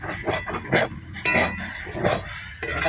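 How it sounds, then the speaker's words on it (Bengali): A pumpkin leaf and jute leaf stir-fry is stirred in a pan. Repeated close scraping and clattering utensil strokes sound over a light sizzle, with no speech. "একটু নেড়ে চেড়ে দেবো।"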